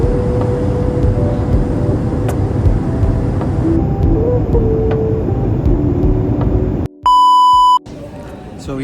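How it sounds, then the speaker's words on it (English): Seattle airport ambience: a steady low rumble of engines and vehicles with faint voices is followed by a sudden loud electronic beep near the end. "I am just sitting at the airport waiting for Darshana to come back from the washroom."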